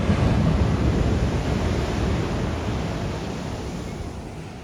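Large ocean surf crashes and splashes on a Cabo beach, a loud, continuous roar of breaking waves with wind buffeting the microphone.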